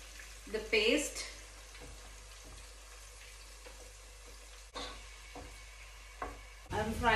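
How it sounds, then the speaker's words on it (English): Spice paste frying in oil in a home kitchen pan for aloo bhath, a soft, steady sizzle close by, with brief bits of a voice at the start and end. "I'm frying it until the raw smell goes and oil needs to be separated"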